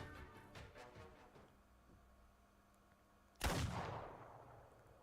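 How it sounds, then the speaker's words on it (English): A gunshot in the video game Arknights: a sharp, loud single blast with a decaying echo tail, following a quieter stretch of faint rhythmic game sounds. "Gunshot."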